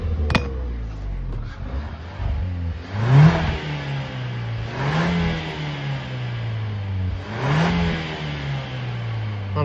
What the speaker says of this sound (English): Give it another rev.